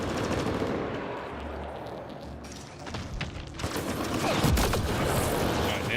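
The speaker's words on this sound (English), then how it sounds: "this one's shooting at us, so we'll shoot him back" Gunfire in the video game Mass Effect Andromeda, with sustained rapid automatic shooting and dense bursts layered over a heavy low rumble, loud and continuous throughout.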